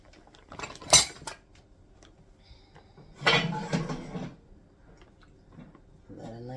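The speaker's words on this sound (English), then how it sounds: "Give that a nice stir up again" A metal utensil stirring wet burrito filling with cheese and hot gravy in a pan: two bursts of scraping and clattering against the pan, separated by quiet, with occasional small knocks.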